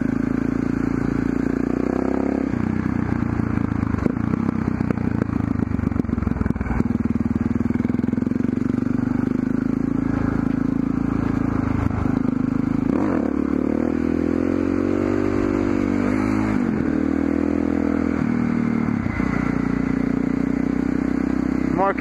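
A motorcycle engine running a little lean idles and runs steadily up close, with a few throttle blips and revs rising and falling over a continuous mechanical rumble.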